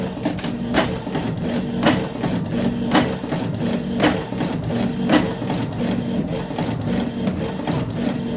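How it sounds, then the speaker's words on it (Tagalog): A printer runs steadily printing a printhead alignment page, with a rhythmic mechanical swipe repeating about once a second over a constant low motor hum. "So, wait nyo pong mag-print yung printer."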